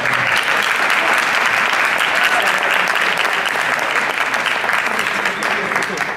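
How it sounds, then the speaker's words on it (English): Theatre audience applauding during an abridged Hamlet performance, a dense, steady wash of clapping that holds loud and continuous throughout with no voices on top. "Round of applause."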